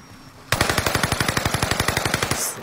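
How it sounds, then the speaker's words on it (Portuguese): Rapid automatic weapon fire in a first-person shooter video game, a loud burst of evenly spaced shots starting abruptly after a quiet moment and rattling on for about two seconds. "Dá um tiro."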